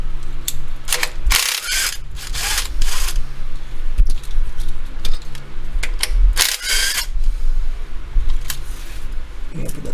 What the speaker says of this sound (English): So I've got the 10mm on my rattle gun.